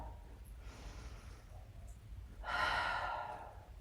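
Deep breathing during a prop-free hip and hamstring mobility exercise: a soft, airy inhale early on, then a louder, fuller exhale of about a second, near and alone over low room hum.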